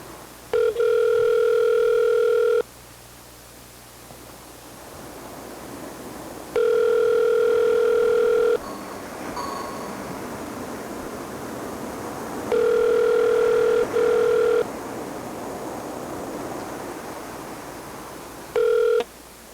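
A telephone line rings four times before a voicemail greeting, each ring a loud steady electronic tone separated by long pauses.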